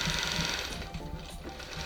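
A sewing machine quilts through an antique hand-pieced quilt of one-inch squares, running steadily and loudly up close with a continuous rapid mechanical whir.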